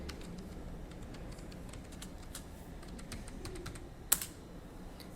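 Computer keyboard typing while entering a Tomcat server port number into a web browser, a steady run of light, close clicks with one sharper key strike near the end, no voices.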